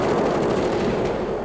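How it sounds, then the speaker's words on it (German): A Gatling cannon in the KKND video game fires one loud, dense, continuous burst of rapid shots that fills the whole moment without a break. "Ja, ist halt eine Gatling-Kanone"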